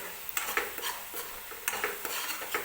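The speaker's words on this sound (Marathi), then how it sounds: "टोमॅटो छान भाजून घ्यायचं आहे" Onion and tomato are stirred in a pan for chicken gravy, with repeated utensil scrapes and clinks over a soft background sizzle.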